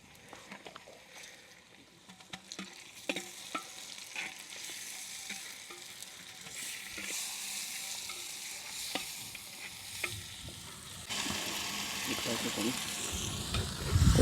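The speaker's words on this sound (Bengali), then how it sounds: "আমরা এবার মাংসটা দিয়ে দেবো, আমাদের মশলাটা হয়ে গেছে।" Mutton hitting hot cooked masala in a village-style handi, with intermittent clinks and scrapes of stirring that give way to a louder, steadier sizzle near the end.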